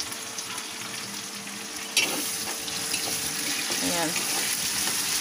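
Onions sizzling and frying in a pan while bagoong is being cooked, a steady crackling hiss with a sharp burst as they hit the oil and some stirring, under a brief spoken word.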